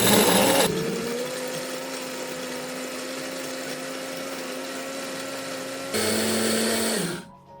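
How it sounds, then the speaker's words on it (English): A blender grinds dried chilies into paprika powder with a loud steady whirring hum, a brief louder burst near the end before the motor winds down and stops. "Place everything in a food processor, spice grinder, or blender, and blend on low speed until smooth."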